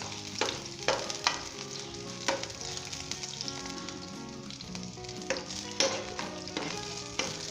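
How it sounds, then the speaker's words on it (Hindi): Ginger turning light golden brown in hot vegetable oil for a cabbage and potato salan, a close crackling sizzle broken by regular stirring clacks, with no one speaking. "अदरक का थोड़ा सा लाइट गोल्डन ब्राउन भी हो जाए, इसका जो फ्लेवर है जो वेजिटेबल ऑयल के अंदर आ जाए।"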